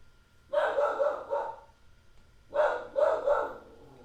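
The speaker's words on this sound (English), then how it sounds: "Sorry about the barking dog." A dog barks close by indoors in two quick bursts of about three sharp barks each, separated by a short pause, with only faint background hum between them.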